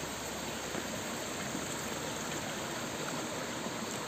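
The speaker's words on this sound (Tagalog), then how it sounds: "Ito ang naririnig kong lagaslas ng tubig guys." A trail stream flowing toward a waterfall gives a steady, even rush of water, moderately quiet and constant throughout, with no voices.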